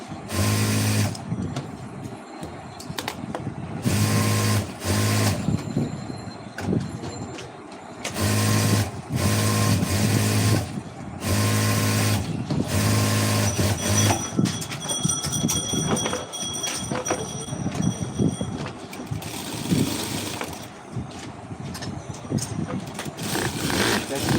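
A sewing machine stitches the neck of a white semi shirt in repeated short bursts of rapid mechanical whirring, separated by brief pauses, close and fairly loud, with a voice speaking at times.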